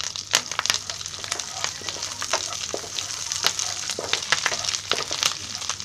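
Curry leaves crackling in hot oil for a Marathi lemon egg curry, a close, lively sizzle with frequent sharp pops and spits over a steady frying hiss.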